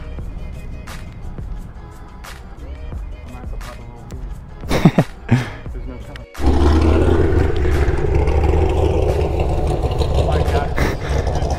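A car engine idles, then its exhaust roars loudly and steadily as it revs, close by at a cars and coffee meet, with faint murmuring in the background.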